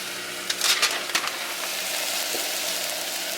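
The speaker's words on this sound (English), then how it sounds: "I'm starting out just by cooking the celery and onions in some olive oil, and then I'm adding in kale." Celery and onions frying in olive oil with kale added give a steady close sizzle, broken early by a few crisp clattering stirs before settling into an even hiss.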